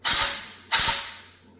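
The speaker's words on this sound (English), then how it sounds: "I'm going to put my air nozzle right in here, and when I apply air pressure" Two strong blasts of compressed air hissing up close from an air nozzle forced through an engine oil spray jet on a 1983 Porsche 911SC, each one fading away after the initial burst.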